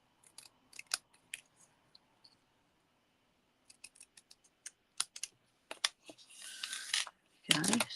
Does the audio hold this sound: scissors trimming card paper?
yes